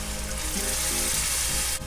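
Tomato paste sauce with water sizzles and bubbles in a pan on the stove, a dense steady frying hiss close by with a few faint clinks, and no talking.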